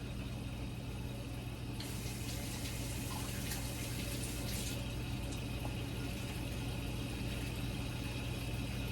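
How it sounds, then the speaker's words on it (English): Cold tap water pours steadily over an onion at a kitchen sink, a continuous hissing splash over a low background hum, with no voices. "I'm going to go ahead and run some cold water over it."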